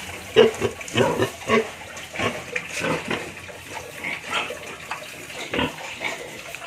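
A restless sow grunting and squealing repeatedly in a pen after weaning her piglets, with irregular bursts of noise and some watery splashing in the background.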